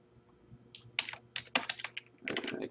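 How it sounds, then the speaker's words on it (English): Quick keystrokes on a computer keyboard as someone types an address, a close burst of light clicks in uneven runs with short pauses, and no one speaking. "Type in the address."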